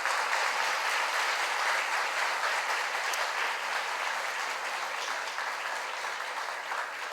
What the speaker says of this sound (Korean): 우리 감사와 우리 박수 부탁드리겠습니다.